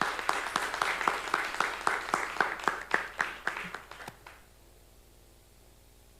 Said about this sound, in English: can we have a round of applause for our first two presenters?